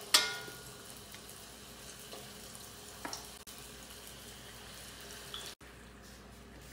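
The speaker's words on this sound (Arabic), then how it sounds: "سخن عندي الزيت، نبدأ بسم الله نبي نقلى الرولات لحد ما تتحمر معنا" Falafel rolls fry in hot oil with a soft, steady sizzle and faint crackle, fairly quiet and continuous, broken by an occasional small knock.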